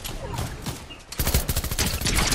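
Rapid bursts of gunfire in a Fortnite Zero Build match, dense and loud throughout, growing heavier after the first second, with overlapping shots and no speech.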